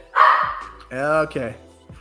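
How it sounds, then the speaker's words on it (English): A dog barks a few times close by, sharp yips with short gaps between them, heard clearly within a home setting. "His dog's barking a sec"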